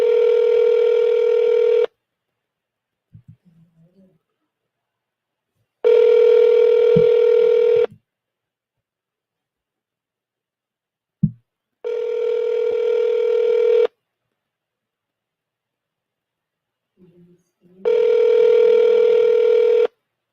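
A telephone call placed over the line gives four long, even ringing tones of about two seconds each, separated by roughly four-second silences, clear and close, with faint clicks between them.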